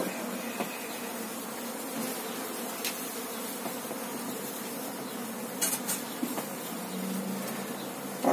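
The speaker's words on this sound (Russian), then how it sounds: "Поактивнее стали, пчелы побольше." A dense, steady buzz of many honeybees swarming close by at a hive recently moved into a new box, with occasional louder wingbeats passing near.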